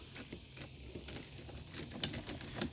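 A ratchet wrench loosening the 10mm bolts on a car battery hold-down, quick bursts of clicking pawl ratchets in uneven rhythm, close and clear with no voices.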